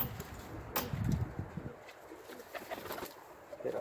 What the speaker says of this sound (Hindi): ये सात बेबी पिजन है।